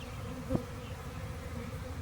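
A swarm of honey bees buzzing outdoors, a faint, steady hum with a brief closer buzz as one bee passes, no talk.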